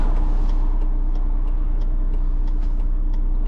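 A self-built Volkswagen Crafter / Mercedes Sprinter campervan pulls away, its engine a steady, loud low drone with road rumble, heard from inside the cab with no voices.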